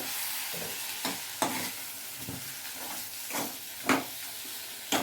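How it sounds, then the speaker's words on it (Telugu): Turmeric and chili powder are stirred into a sizzling pan for an Andhra-style egg curry, with a soft continuous fry and a series of distinct scraping stirs and spoon taps, no speech. "కొంచెం పసుపు వేసుకుంటాం తర్వాత ఒక కొంచెం కారం కూడా వేసుకుందాం ఒక స్పూను ఇప్పుడు దీన్ని బాగా కలపాలి"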